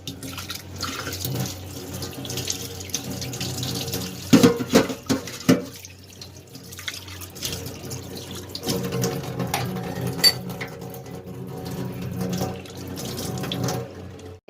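Kitchen tap water running in a sink while dishes are washed in a home, a moderate splashing flow with clinks and pauses, fairly close and steady.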